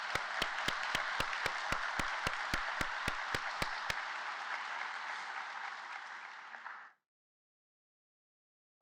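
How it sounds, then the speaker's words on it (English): An audience at a pharmacy school white coat ceremony applauds its faculty with loud sustained clapping. Sharp individual claps stand out at the start, then the applause fades out after about seven seconds, leaving silence. "A big round of applause for our faculty members."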